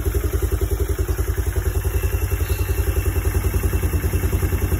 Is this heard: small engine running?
yes